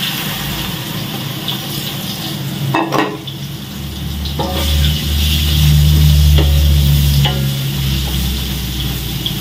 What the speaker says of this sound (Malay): sekarang kita goreng tempe dulu